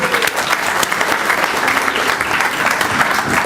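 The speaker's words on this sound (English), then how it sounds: "can we give her a warm round of applause, please?" Warm audience applause at a certificate presentation evening at the Highfields Centre, a dense, steady clapping from a sizeable crowd that holds at full strength throughout, close and loud with no talk over it.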